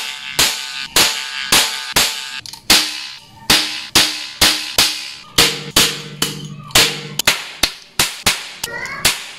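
A toy hot air bullet cap gun fires about twenty sharp, loud cracks in a fairly regular rhythm, each snap close and decaying quickly, with no talking between the shots.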